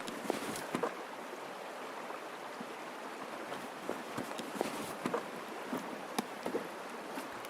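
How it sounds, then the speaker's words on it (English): Running water flows in the video game Escape from Tarkov, a steady, quiet rushing hiss with faint scattered splashes and taps throughout. "Also with the water, it's actually kind of making it hard to hear."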